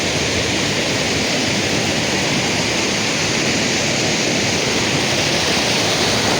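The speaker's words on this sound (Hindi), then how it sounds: "पीछे है वाटरफॉल, वाटरफॉल पीछे है वाटरफॉल" A waterfall roars steadily and loudly throughout, a dense, unbroken rush of falling water that fills the whole scene with no voices over it.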